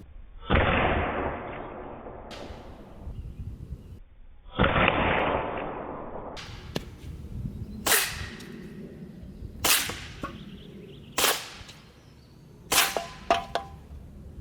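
A Sig Sauer P320-X Carry CO2 blowback BB pistol firing .177 rounds: two long hissing gas bursts followed by several sharp, loud, close cracks, some spaced and some in quick pairs, with no talking.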